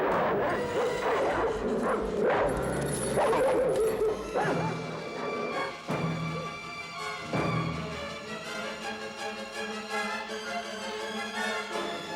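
Dog barking and yipping on the film set of Moonwalker, the barks and whimpers repeated loudly over a dense, busy music bed.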